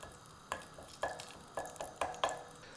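Lard melting in a pan before onions go in, with a soft steady sizzle broken by about six sharp scraping clinks of a utensil against the pan at a roughly even pace; no talking.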